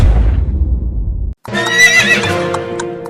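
Cartoon horse whinnies loudly and up close in a desi comedy cartoon: a rising, quavering neigh that follows a burst of low rumble and a brief silence, with no talk.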